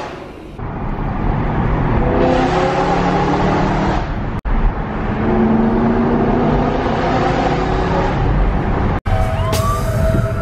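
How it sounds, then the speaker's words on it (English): A Porsche 991 GT3 at a dealership gives a loud, sustained engine roar with rising and falling tonal sweeps as it revs, twice cut by abrupt breaks, ending in a higher whine. "here's the 991 GT3 that I'm about to drive"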